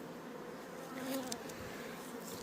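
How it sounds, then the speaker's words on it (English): Honey bees buzz steadily around a hive near a small honey box they are starting to rob, a dense continuous insect drone with a few louder passes close by and no talking. "These bees are starting to rob my little honey box over here"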